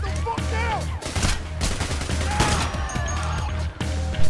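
Rapid gunfire during a Heat Street heist in Payday, a quick string of loud, sharp shots with brief gaps, heard alongside in-game sounds and faint voices.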